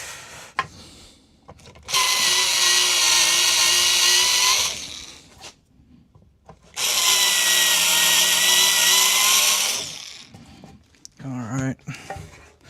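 Power drill boring holes into a chassis during a guitar amplifier build, two sustained whining bursts of about three seconds each, loud and close, with clunks and handling noise between and after.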